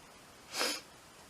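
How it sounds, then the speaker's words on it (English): A single short nasal sniff or snort, close by, lasting about a quarter second against a quiet background. "Got the sniffles."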